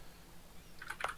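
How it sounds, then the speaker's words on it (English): Computer keyboard typing during a strategy game commentary session, a short burst of faint key clicks near the end, low in level against a quiet room background. "hearing your amazing keyboard again"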